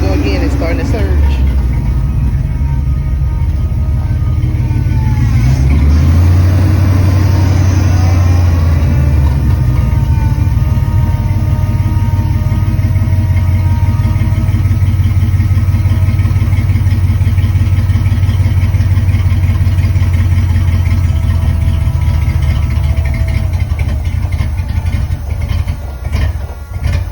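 Ford Maverick engine running with a fuel pressure fault, its steady low rumble swelling and dipping as it surges, close and loud throughout with a brief rise in pitch midway.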